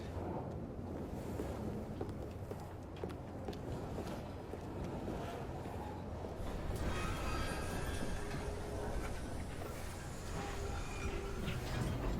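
A train in Assassin's Creed Syndicate, set in Victorian London's Whitechapel, gives a steady, close rumble and rattle that runs unbroken and builds slightly, with hissing and rushing air over it.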